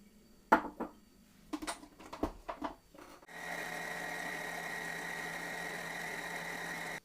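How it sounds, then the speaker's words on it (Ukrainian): Choux pastry dough being mixed after the sixth egg goes in: a few clinks and scrapes of utensils against a bowl, then a steady, even electric mixer whir running close and continuous. "Додаю останнє шосте яйце і перемішую."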